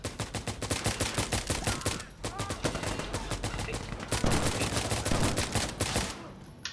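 Dense automatic and rapid gunfire in the tactical shooter Insurgency Sandstorm, sustained loud bursts through most of the stretch with a brief lull, alongside game effects and faint voices.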